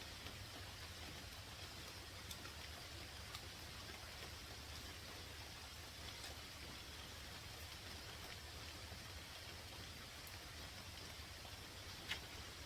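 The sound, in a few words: rain falling outside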